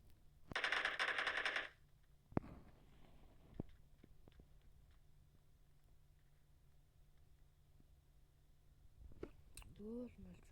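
Automatic gunfire in the PUBG video game rattles out in a short, loud burst near the start, then a few faint single pops and clicks follow in a quiet stretch, and a brief voice comes at the end.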